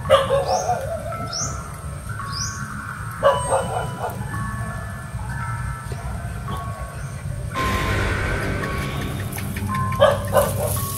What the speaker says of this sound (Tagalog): Pakinggan niyo mabuti yung aso mga kaibigan.